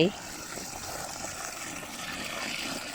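Steady, soft rush of water flowing through a rice paddy after rain and repairs, a faint continuous trickling wash with no talking.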